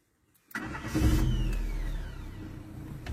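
A Renault Clio 2 engine cranks and fires after a moment of near silence, flaring briefly before easing into a steady idle close by.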